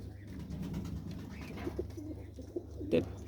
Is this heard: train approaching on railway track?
no